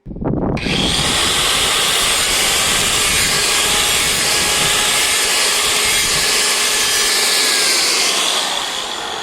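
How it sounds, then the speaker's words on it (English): A sharpener grinding John Deere L120 lawn mower blades, a loud continuous hissing, rasping whine that starts abruptly and holds steady for several seconds before easing slightly at the end. "We took the blades off, and now we're gonna go sharpen them."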